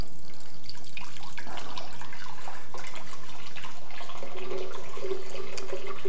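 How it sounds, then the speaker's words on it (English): Vegetable stock pours into a Vitamix blender jar in a home kitchen, a steady close splashing liquid stream that settles into a rising, narrowing fill tone near the end. "I'm gonna take 2 cups of the vegetable stock. So I'm gonna use my Vitamix as my measuring stick."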